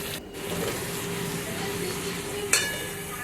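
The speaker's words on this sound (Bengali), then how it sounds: "এবার চলুন মশলাটা কষাবো অনেকক্ষণ ধরে কষাবো যতক্ষণ না তেল না বেরিয়ে আসে" Ground fennel and nigella spice paste frying in oil for a rohu fish curry, a soft, steady sizzle with light stirring and one brief sharp clink near the end.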